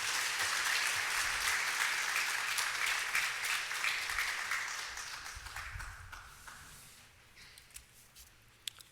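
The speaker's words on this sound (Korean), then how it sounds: "우리 박수로 환영할까요?" Congregation applause welcoming a pastor during a Sunday church service, broad clapping that fades gradually to silence with a few last claps.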